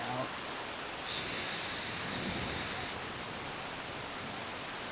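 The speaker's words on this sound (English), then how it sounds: "All of a sudden it's pouring." Dense, steady hiss of heavy rain pouring down, continuous and even throughout, with a faint voice at the very start.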